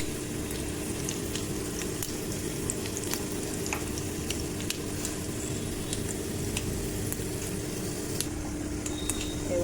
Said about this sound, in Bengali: আদা কুচি দিয়ে দিলাম তেলের মধ্যে